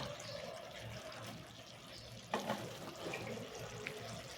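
Water runs from a tap while a bowl that held ground poppy seed paste is rinsed in a kitchen, a faint, steady wash with a brief louder splash partway through.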